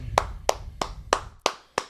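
Six separate hand claps spaced roughly a third of a second apart, each sharp and close, with short decays between them and no voices.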